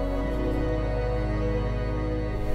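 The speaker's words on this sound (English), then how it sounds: "That is the sound of millions of butterflies flying around me right now." Millions of monarch butterflies in flight make a dense, steady whir of countless fluttering wings, a constant soft rustling hum with no voices, continuous from start to finish.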